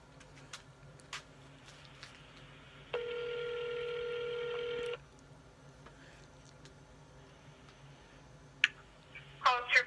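Touch-tone keypad tones dialing a police department phone line, a steady held tone lasting about two seconds, followed near the end by a few short sharp key beeps; no talk.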